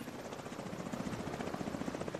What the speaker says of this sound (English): Rogue striker drone detected.